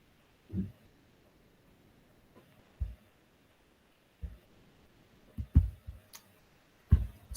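Computer mouse clicks while simulation software is in use, about eight sharp, faint taps spread irregularly through a quiet room.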